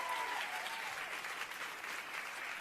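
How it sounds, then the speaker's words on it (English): Audience applause at a San Diego Comic-Con panel for Orphan Black, a steady, fairly faint wash of clapping from a large crowd heard from a distance. "So give all of yourselves a round of applause."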